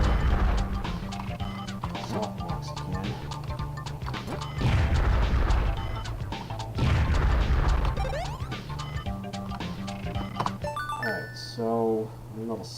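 Busy Super Bomberman 5 gameplay with repeated booming bomb blasts and crashing hits layered over steady game music, dense and loud throughout, ending in a rising bleepy jingle.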